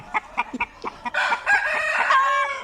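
A grey-and-gold fighting cock crows loudly and close by, starting with a few short clucks and then a long, drawn-out crow.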